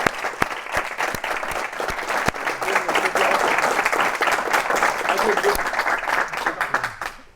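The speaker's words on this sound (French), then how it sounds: "Bravo, on peut t'applaudir." Sustained audience applause at a conference in Reims on awakening consciousness, dense clapping holding steady for several seconds with faint voices underneath.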